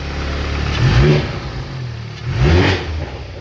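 A Volkswagen MK7 GTI with a new 4-inch downpipe revs twice, each a short swelling engine roar over a steady idle, heard close and without talk.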